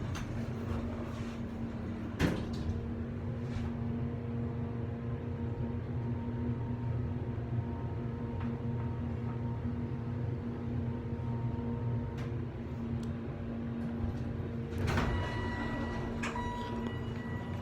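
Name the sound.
Montgomery Vector hydraulic elevator doors and ride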